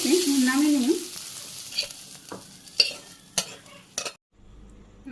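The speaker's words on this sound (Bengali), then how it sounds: "আমি আস্তে আস্তে ভাজি করে নিই অনেক সময় ধরে" Vegetables are stirred and fried in a pan of oil in a Bangladeshi village kitchen, giving a steady sizzle with scraping stir strokes and a few sharper clinks before it drops out near the end.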